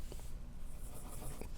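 A pencil scratches steadily across paper as a pickle shape is drawn. The soft, continuous graphite rasp is close and even, with slight changes in stroke.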